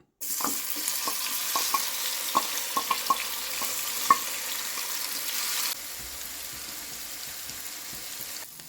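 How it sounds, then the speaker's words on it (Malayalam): Masala-coated brinjal pieces frying in hot coconut oil in a pan make a steady close sizzle, with scattered sharp pops and spatters early on, then the hiss continues more evenly. "ചൂടായ പാനിൽ ഒരു മൂന്ന് ടേബിൾ സ്പൂൺ വെളിച്ചെണ്ണ ഒഴിച്ചു നേരത്തെ മസാല പുരട്ടി വെച്ചിരിക്കുന്ന വഴുതനങ്ങ ഈ ചൂടായ എണ്ണയിലേക്ക് ഇടാം"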